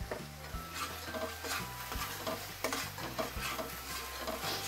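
Masala roasts in oil with salt while being stirred, with repeated rhythmic scrapes and clinks of a spoon against the pan over a continuous close sizzle.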